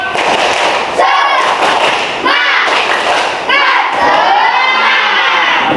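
Primary-school children in a fifth-grade classroom shout a rhythmic clapping cheer in loud, repeated bursts with sharp claps between the chanted phrases.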